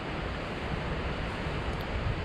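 A big waterfall roars in the distance outdoors, a steady, broad wash of rushing water that fills the clip evenly without breaks or talk.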